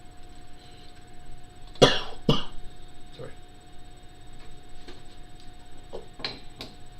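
Two sharp coughs ring out close together near the start, followed by a few softer throat noises and faint clicks over a quiet room hum.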